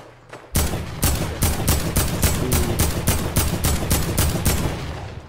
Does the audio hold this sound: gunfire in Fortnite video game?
yes